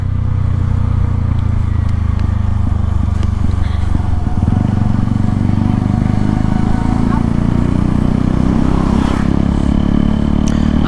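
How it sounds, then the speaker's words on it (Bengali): A modified motorcycle exhaust rumbles loudly and continuously up close as the engine revs, with a rough, throaty note and some rattling and wind noise. "আমার বাইকের এক্সজস্টের সাউন্ড শুনতে পাইতেছেন কি না, বাট প্রচুর লাউড"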